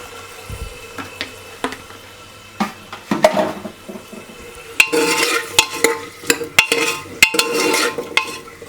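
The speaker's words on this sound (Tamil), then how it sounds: "நம்ம அந்த சின்ன வெங்காயத்தை போட்டு நல்லா வதக்கிக்கலாம்." Shallots sautéing in hot oil for a Tamil kaal kuzhambu, heard as a soft sizzle that grows busier, with repeated clicks and scrapes of stirring in the pan and no talking.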